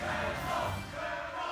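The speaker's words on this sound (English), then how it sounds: "And now the crowd cheering for Mad Ice King." A video game crowd roars and cheers for Mad Ice King during a livestreamed invitational match, a dense, loud continuous swell of voices without pauses.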